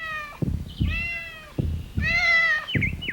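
A cat in the 1988 film The Nest meows repeatedly, four or five close, clear, drawn-out cries separated by short gaps and soft thumps, with no talking.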